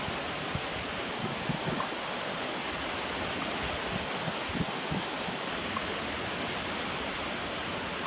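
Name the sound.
wind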